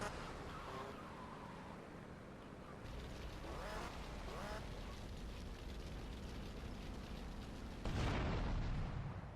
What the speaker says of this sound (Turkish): Evet bir araba patladı.